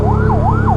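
Wailing ambulance siren, one of many in a long procession of ambulances, sweeping up and down in a smooth repeating cycle, loud and close over a steady low engine rumble.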